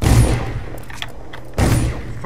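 Gunfire in the stealth-action game Dishonored: two heavy, booming shots about a second and a half apart, each with a short fading tail.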